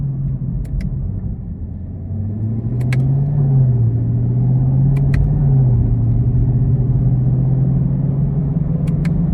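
The supercharged engine of a 2021 Chevrolet Camaro ZL1 with a 10-speed automatic hums low and steady from inside the cabin while driving, a deep constant rumble with faint ticking clicks and no talking.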